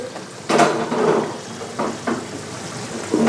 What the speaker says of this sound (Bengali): আমি হালকা একটু এটাকে ঝাঁকা দিয়ে নাড়া দিয়ে দেব